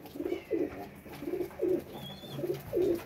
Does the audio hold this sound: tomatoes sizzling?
no